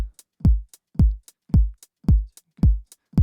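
A four-on-the-floor electronic kick drum thumps steadily on every beat, about six punchy low hits, with crisp short hi-hat ticks on the offbeats between them and no snare or clap.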